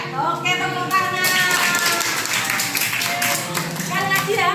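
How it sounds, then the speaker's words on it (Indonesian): Children clap their hands in a classroom activity, with a burst of clapping in the middle, while voices speak and call out around it. "Oke, tepuk tangan."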